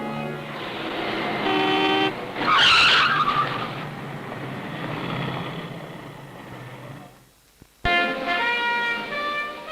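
High-powered automobile in 1960s Kuwait, heard as loud engine roar with tyre skidding and a horn toot, fading to near silence before the engine noise returns.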